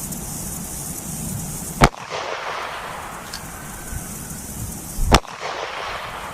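Two sharp, loud .38 Special pistol shots fired at a one-inch-thick polyurea slab outdoors, about three seconds apart, each with a short echoing tail over faint background noise.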